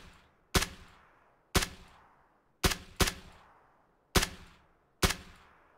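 Six sharp single gunshots from PLAYERUNKNOWN'S BATTLEGROUNDS crack out at irregular intervals, each loud and close with a short ringing decay, two of them fired almost back to back.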